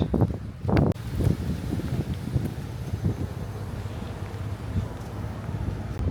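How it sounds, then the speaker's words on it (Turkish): Steady rushing wind buffets the microphone outdoors in Albania, with a brief louder gust near the start and low rumbling throughout. "Baya bir rüzgar var."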